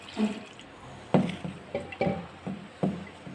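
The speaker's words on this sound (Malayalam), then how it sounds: "ഇത് കുറച്ച് വെള്ളം ഒഴിച്ച് അടപ്പത്ത് വെക്കട്ടെ" Water poured into a pot of mango pulissery, with splashy, uneven bursts and a few drips and knocks close by, no talking.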